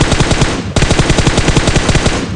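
Rapid automatic gunfire in PUBG Mobile, two loud, close bursts of fast, evenly spaced shots, the second burst following almost at once and running on steadily.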